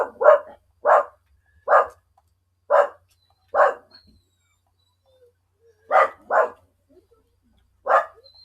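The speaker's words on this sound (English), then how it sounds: "Oh, dogs." Dogs barking indoors nearby: a run of eight or so sharp, loud barks, five in an even rhythm, then a pause and three more, with no talking.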